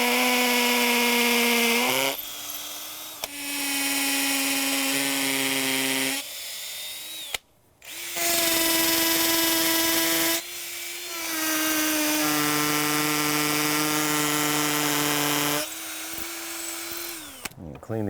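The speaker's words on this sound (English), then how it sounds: "So let's drill all these holes." A power drill with a 3/16 inch bit whines loudly in several long bursts separated by brief pauses, drilling into concrete stairs, the pitch dipping as it bites into the hard material.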